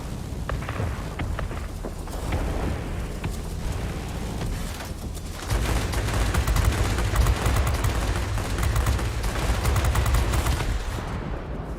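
Aircraft guns chatter in World of Warplanes, rapid machine-gun bursts running almost nonstop, close and loud, growing denser and heavier about halfway through, with no talk.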